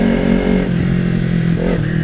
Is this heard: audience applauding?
no